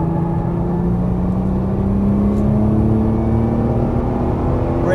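Nissan GT-R engine pulling hard on a racetrack, a steady loud drone with slowly rising pitch as the car accelerates out of a corner, close and continuous with no talk.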